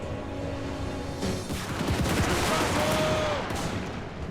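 A volley of musket or handgun fire from infantry in firing ranks in Total War: Warhammer, a dense crackling burst of overlapping shots that swells and holds for a few seconds amid battle din.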